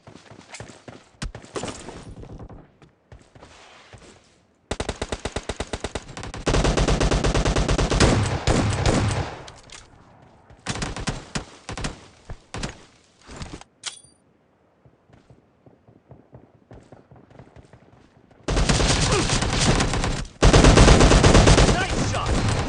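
Shotgun blasts and rapid M249 machine-gun bursts in a team deathmatch video game match, loud and repeated in dense volleys separated by short quieter gaps with scattered shots.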